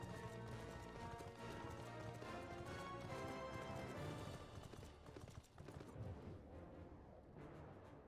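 Galloping horse hooves in Final Fantasy 14 drum a steady, loud clip-clop over a dense layer of game music and ambience, with no voices.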